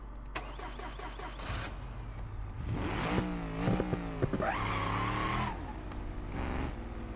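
A car engine in the video game BeamNG.drive cranks with quick rhythmic turns, catches, then revs up loudly and settles back toward an idle, sounding close.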